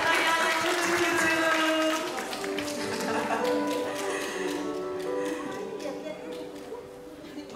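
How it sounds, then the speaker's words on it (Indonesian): A church congregation at an Easter Sunday service applauds in a broad, crowded wash of clapping, while a voice speaks over it and sustained music carries underneath. "Beri tepuk tangan yang meriah buat adik-adik kita yang cucu-cucu."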